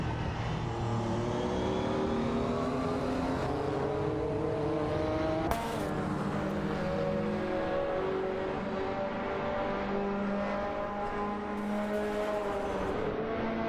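Several race cars in an AI-driven racing game, including a Porsche 959 and a BMW Nazca C2, roar continuously with layered engine tones rising and falling as they shift and jostle close together, with no pauses.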